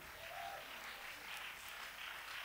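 A church congregation applauds during a worship service, a steady, faint wash of clapping that carries on without a break and with no voices on top.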